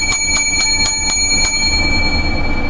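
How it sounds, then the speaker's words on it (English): Bells ring about seven times in quick, fairly even succession over a steady background hum, then the ringing stops and the hum continues alone. "Seven bells before we begin."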